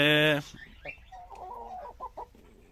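A rooster near the chickens gives a loud, brief call right at the start, followed by quieter clucks and rustles with a voice speaking softly nearby.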